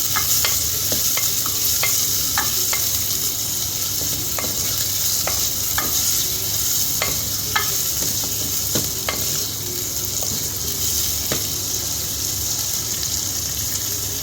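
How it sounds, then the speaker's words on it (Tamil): Six or seven finely chopped small onions (shallots) sautéing in a pan, with a loud continuous sizzle broken by frequent sharp stirring scrapes and taps. "இதை நல்லா வதக்கிக்கலாம்"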